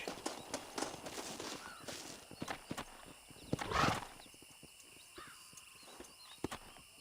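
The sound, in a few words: horse galloping in video game Red Dead Redemption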